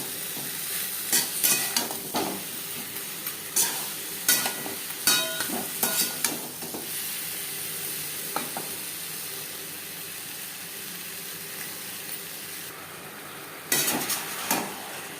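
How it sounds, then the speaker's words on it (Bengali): Green mango pickle with jaggery stirred in a pan, a spoon scraping and clacking in irregular bursts against the metal over a steady sizzle and hiss of cooking, close and moderately loud, no talk. "আমের সাথে গুড় বেশ ভালো করে মেল্ট হওয়া পর্যন্ত রান্না করব"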